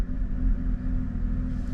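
A car engine idles with a low, uneven rumble that wavers and vibrates steadily throughout.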